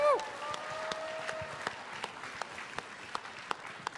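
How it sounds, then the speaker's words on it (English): Audience applause at a BlizzCon 2011 publishing panel, a crowd clapping steadily at moderate distance after an opening cheer, with scattered louder individual claps. "Guys, a round of applause for Christy Golden."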